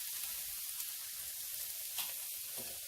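Onion going into a sizzling pan for keto chicken chili gives a steady, fairly faint hiss throughout, with a slight swell near the end and no voices.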